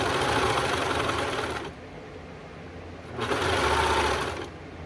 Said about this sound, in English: I'm going to pull the serger out and sew this with the serger